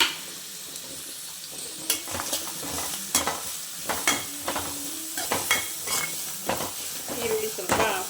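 Onions and green chillies fry in a pan for egg curry, a soft sizzle broken by repeated spoon scrapes and clinks against the pan, close and in an uneven rhythm.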